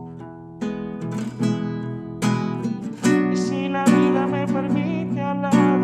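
Acoustic guitar mixing fingerpicked arpeggios with strummed chords for a pre-chorus section, close and clear, with a voice singing along over the playing.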